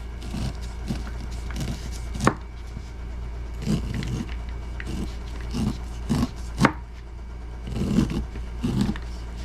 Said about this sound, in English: You just cut the corn off the cob and stick it in a jar.